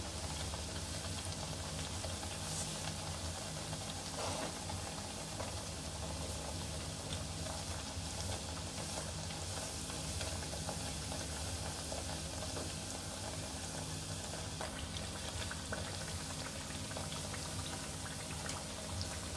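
Jowar flour pooris fry in hot oil over a medium flame with a dense, steady sizzle and bubbling that stays constant throughout, with no talking.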